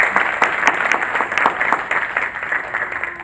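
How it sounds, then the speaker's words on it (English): A candidate forum audience applauds with dense, steady clapping for a few seconds, fairly close and loud, with no voices. "Please round of applause."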